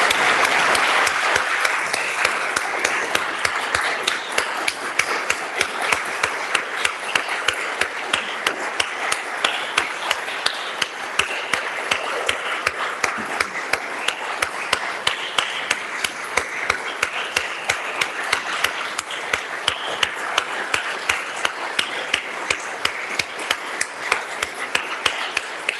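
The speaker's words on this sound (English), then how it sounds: "Let's give them all a big round of applause for their hard work." An audience in a legislative house session gives a sustained round of applause, dense steady clapping from many hands lasting the whole stretch at an even moderate loudness.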